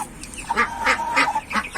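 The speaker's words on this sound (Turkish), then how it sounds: "ördek" A duck quacks several times in a quick, uneven series, the calls nasal and fairly close, with no talking.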